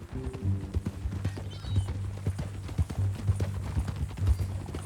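Horse hooves clip-clop steadily in Red Dead Redemption 2, a close, rhythmic trot over a low ambient bed, with an occasional snort or whinny.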